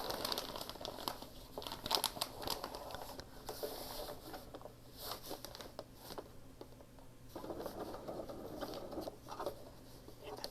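A sewing machine stitches a journal made from an Amazon envelope, giving a steady close rattling drone with crinkling paper and plastic under it.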